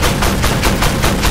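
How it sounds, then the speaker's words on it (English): Rapid gunfire from enemy tanks in the armored combat video game Armored Warfare, a quick run of loud, evenly spaced shots over about a second with no talking. "Someone firing at me."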